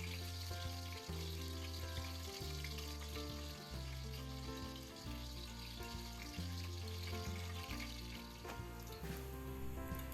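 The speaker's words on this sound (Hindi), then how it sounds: "ऑयल को हल्का गर्म करेंगे और ये मसाले ऐड करते हैं" Whole spices, including dried red chillies, cardamom pods and cumin seeds, sizzling in warm Soya Supreme cooking oil in a karahi. A steady, even frying hiss runs under a low continuous hum, with no talking.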